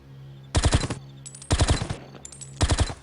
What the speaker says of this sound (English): So the M95 sniper rifle, its primary fire actually, is to shoot a burst instead of just a single bullet